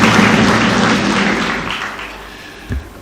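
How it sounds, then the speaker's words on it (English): An audience at a live political event in Nairobi applauds the protocol team, with a burst of clapping that is loud at first and fades over a few seconds. "Please let us give them a round of applause."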